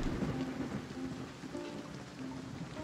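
Steady rain with a low thunderstorm rumble in the video game Wartales, a continuous wash of noise with faint tonal hints of game music underneath.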